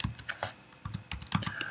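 Typing on a computer keyboard, irregular clusters of quick key clicks at close range, moderately quiet and with no talking.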